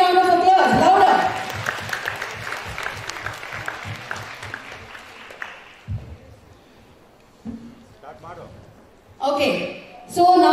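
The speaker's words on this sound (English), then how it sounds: "So can we give him a big round of applause?" Applause from a school audience at a Science Day 2021 quiz event, loud clapping bursting at the start then fading into scattered claps, followed by quieter gaps and a short burst near the end.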